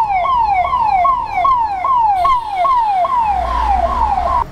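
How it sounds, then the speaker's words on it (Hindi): An ambulance siren wails close by in a mountain-road traffic jam in Uttarakhand, a loud, repeated rising-and-falling tone cycling about twice a second over low engine rumble. "एम्बुलेंस"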